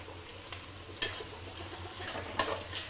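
Chopped onions and green chillies fry in a pan with a soft steady sizzle, broken by a few clinks of a spoon stirring against the metal; nobody talks.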